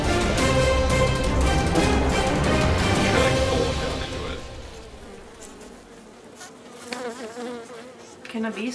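Bees buzz loudly and densely at first, then thin out to fainter, wavering insect drones.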